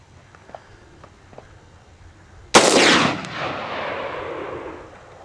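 A Bushmaster AR15 rifle fires a single loud, sharp shot outdoors in the desert, followed by a long rolling echo that slowly fades, with faint ambient sounds before it.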